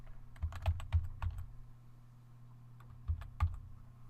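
Soft, close computer keyboard keystrokes in two short bursts, a quick run of clicks then a pause and two more taps, in a quiet room with no talk.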